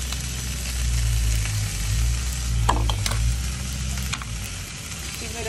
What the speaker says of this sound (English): Let it heat up and saute for a while. Beans now, the onions have sort of caramelized.